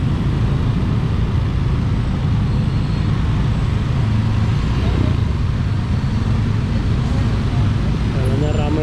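Dense road traffic in Canggu, Bali on a rainy evening, with a steady roar of cars, trucks and motorbikes passing close, continuous and loud throughout, with someone speaking over it.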